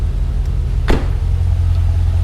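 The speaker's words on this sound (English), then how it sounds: "we started the truck up immediately" A truck engine running steadily just after a 4L60E transmission install, a constant low close rumble with a brief whooshing sweep partway through.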